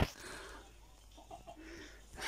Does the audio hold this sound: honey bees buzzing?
no